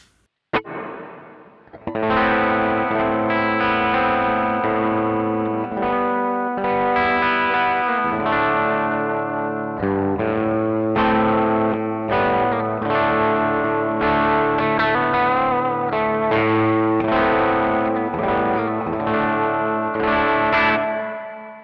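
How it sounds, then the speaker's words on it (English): Guitar chords strummed through a Caline CP80 Ragnarok delay and reverb pedal on a moderate reverb setting, a series of distorted strums with sustained, washing tails that ring between changes, no voices. "Here is the reverb with the just kind of set to like a moderate reverb setting"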